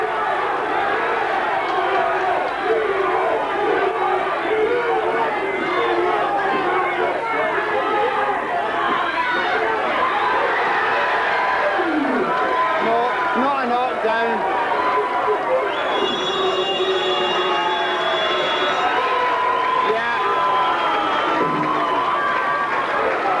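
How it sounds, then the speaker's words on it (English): A packed boxing arena crowd during a 1995 bout roars continuously, with shouting, cheering and excited babble swelling in waves and a few sharp whistles rising above the din. "Just listen to the crowd"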